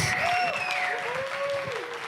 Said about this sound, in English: A round of applause for all the ones who demoed and our judges.